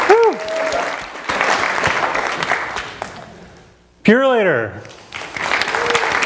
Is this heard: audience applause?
yes